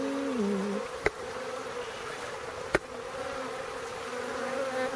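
Wild honeybees from a large, five-year-old colony buzz steadily during a hive relocation, a close, continuous drone with wavering pitch and two brief sharp knocks.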